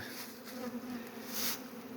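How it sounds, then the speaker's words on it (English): Yellow-legged hornet buzzing close by, a steady droning hum that briefly swells louder. "called the yellow-legged hornet, which is cousin, surprisingly, maybe not surprisingly, but related to the Asian giant hornet"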